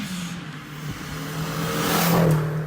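A Renault turbocharged 1.4-liter C1J Cléon-Fonte engine in a big-turbo Euro classic car revs up close and loud, its pitch rising and climbing toward a peak near the end of the short burst.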